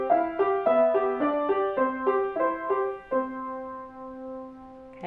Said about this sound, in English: the last extension is to put those chords into what we call an Alberti bass.